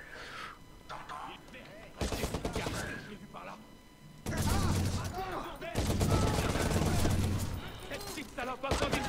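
Bursts of rapid gunfire from a weapon in Watch Dogs, clustered volleys that start and stop abruptly, with a voice talking between and over the shots.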